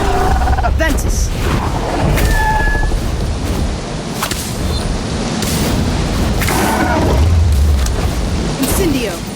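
A Ventus wind spell cast in Harry Potter: Magic Awakened on Android sends loud whooshing gusts and booming bursts through dense game sound, with voices talking over it for most of the stretch.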